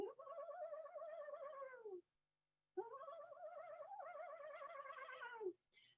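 A voice imitates the descending whinny call of an eastern screech owl, two wavering, horse-like quavering notes that slide downward at the end, close and fairly soft, separated by a short silence.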